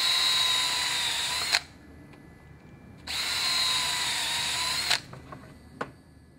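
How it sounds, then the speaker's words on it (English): A power drill whines in two bursts of about one and a half seconds, pre-drilling wooden shelf boards, quiet between them, with a few light knocks near the end. "Now we're gonna pre-drill our bottom shelf boards."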